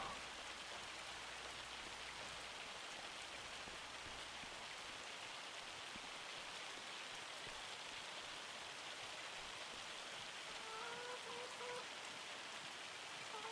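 Hail pelting down in Farming Simulator 25, a dense, steady hiss of ice striking surfaces that continues unbroken throughout, with a few faint bird-like chirps surfacing near the end.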